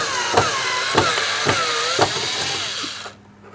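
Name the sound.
unscrewing Phillips head screws in a Cadillac CTS door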